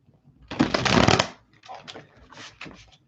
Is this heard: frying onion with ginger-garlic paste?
no